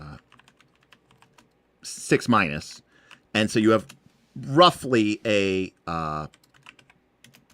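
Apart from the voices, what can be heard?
typing on a computer keyboard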